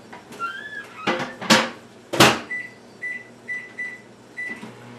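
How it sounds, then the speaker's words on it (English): Door thumps and several button beeps sound close by as a microwave oven is shut and set, followed by a series of short, evenly spaced beeps. "I'm going to stick it in the microwave for 6 minutes."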